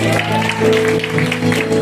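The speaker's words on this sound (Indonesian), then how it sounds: "Boleh beri tepuk tangan bagi Allah" A church congregation applauds during a worship service, a sustained wash of clapping mixed with voices and a held musical tone underneath.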